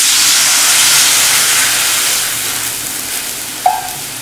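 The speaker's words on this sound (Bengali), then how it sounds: "ডাল আমাদের ভাজা হয়ে গেছে, এখন জল দিয়ে দেবো।" Water poured into a hot pan of fried moong dal sets off a loud, rushing steam hiss that slowly fades, ending with a short clink.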